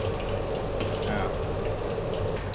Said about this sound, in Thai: อ่าแล้วก็ค่อยๆทอดนะครับ มันอาจจะมีน้ำมันแบบ กระเด็นบ้างนิดหน่อยนะ